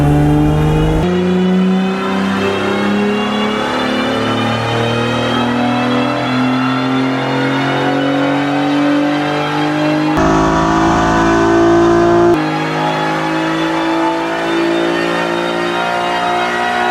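An Acura Integra fitted with a V6 engine revs hard through a dyno pull, its loud engine note climbing steadily in pitch with a brief gear change midway, then pulling on again with no voices over it.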